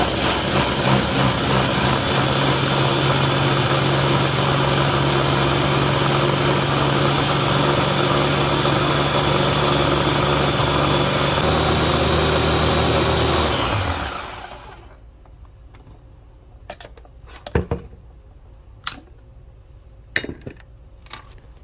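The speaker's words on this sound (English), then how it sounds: "And now you're going to blend it for 45 seconds." A blender whirs loudly and steadily, blending oats with cold water into oat milk, then spins down and stops, followed by a few sharp clinks and knocks in the quiet.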